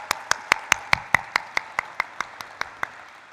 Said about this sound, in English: Can we have a thunderous round of applause for it?